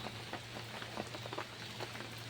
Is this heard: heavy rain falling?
yes